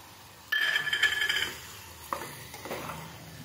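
Soaked rice and dal are tipped into yogurt, turmeric and masala in a pot for matka khichdi and sautéed. A sudden sizzling burst is followed by scraping stirs that fade into a softer, uneven sizzle, with no talking.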